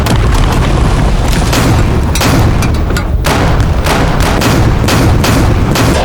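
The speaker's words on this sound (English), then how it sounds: "2 white armored vehicles unleashed heavy fire on the Yellow's temporary base." Two armored vehicles pour heavy fire into a base in a destroyed building, the booms and gunshots very loud and close, crowding together into a dense, nonstop barrage.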